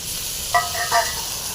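Tomatoes added to a yam curry in a pan, a brief close sizzle with two short scraping stir strokes over a soft frying hiss.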